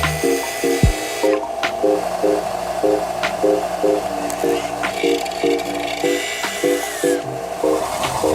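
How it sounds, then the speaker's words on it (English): A short 2-inch section of steel tube is spun against a disc sander to chamfer its end, giving a loud steady motor whir with rhythmic grinding pulses and occasional scraping contact noises. "We'll give it a nice little spin against the disc sander."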